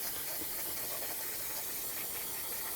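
Brake parts cleaner sprayed from an aerosol can onto the rear hub of a 2002-2007 GMC Envoy, a faint, steady hiss of spray lasting a few seconds without pause.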